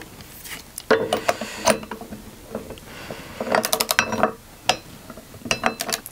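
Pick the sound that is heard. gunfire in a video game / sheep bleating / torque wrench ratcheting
torque wrench ratcheting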